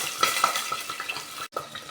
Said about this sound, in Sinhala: තේනවනේ පටපට ගාලා පුපුරනවා